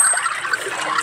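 Water pouring in the Flow Legends video game, a steady hissing trickle running continuously without pause.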